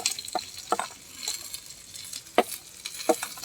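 A spoon stirs a wet paste of chilli and turmeric powder for a fish and cabbage curry, giving soft intermittent scraping and squelching strokes at an uneven rhythm, close and fairly quiet.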